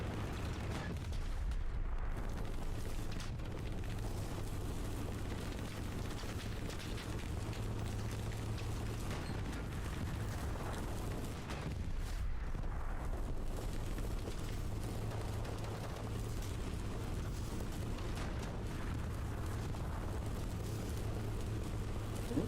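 Tank cannon shots and explosions from a WWII-style battle game on the Kharkov map, a steady loud barrage of booms and rumbling blasts throughout, with several sharp bursts standing out.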